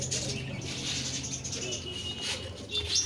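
Pet pigeons cooing in a loft, soft low repeated coos blending with faint chirps and background bird chatter, steady and fairly close.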